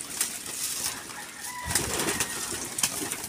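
Racing pigeons flapping their wings as they fly out of a loft, a fluttering rush of wingbeats with soft cooing and ambient noise, moderately close and continuous.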